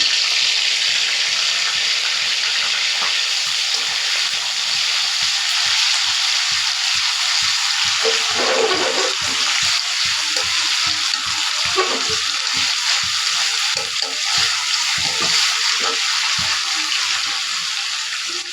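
Green chilli and onion paste fries in hot oil, a steady broadband sizzle with occasional spatters and stirring knocks throughout, close and continuous.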